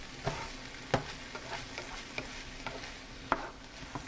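Ground turkey mixture stirred in a hot pan for sesame bowls, soft steady frying under a scattering of spaced utensil taps and scrapes, fairly quiet and close.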